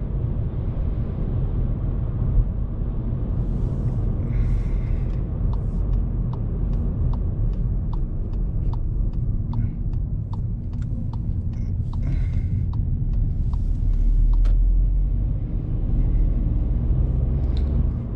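A 2019 Volkswagen Polo with the 1.0 TSI three-cylinder engine pulling steadily on the road, a low, gruff, diesel-like drone from inside the cabin with faint clicks over it.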